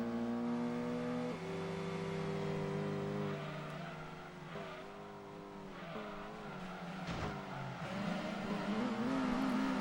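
Dodge Viper GTS race car engine in the video game Gran Turismo 2, revving hard through gear changes with rising and falling engine tones, tire squeal and skidding as it corners, loud and continuous with no talking.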